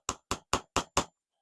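Five light, evenly spaced hammer taps drive a model locomotive axle through its wheel on a spacer, each a sharp close metallic knock followed by a short ring, then silence.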